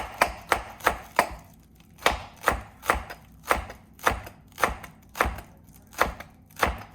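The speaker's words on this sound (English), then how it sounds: "So basically I'm just gonna cut a little bit of these" A knife chops green onions thinly on a cutting board, with about seventeen crisp, close, regular taps, quick at first and then steady, with no voices.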